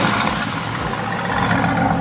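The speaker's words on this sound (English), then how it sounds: "Not a cold start though, guys, a warm start." A Mercedes-AMG GT S engine, already warm, runs loud and close after starting, a dense steady growl with little change in pitch.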